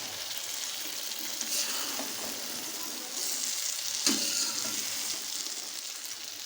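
Okra frying village-style over a lowered flame gives a continuous close sizzle, with occasional soft scrapes and clicks as a spoon stirs the pan.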